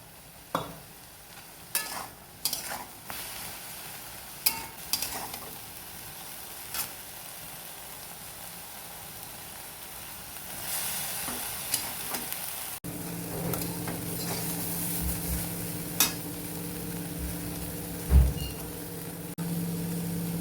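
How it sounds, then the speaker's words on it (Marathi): Cluster beans (gawar) fry in oil in a pan, with a steady sizzle that swells louder in the second half and is broken by scattered clicks and scrapes of stirring, close up and without any talk. "आता आपली गव्हाची शेंग भाजत आलेली आहे"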